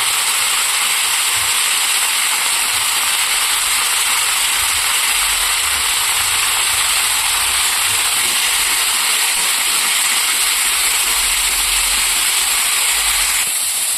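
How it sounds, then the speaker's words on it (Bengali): Mango pieces fry in a pan with dried red chilli, a continuous bright sizzle that stays loud and even throughout, with no talking. "আমি কিন্তু আমটা খুব সুন্দর করে ভেজে নিচ্ছি"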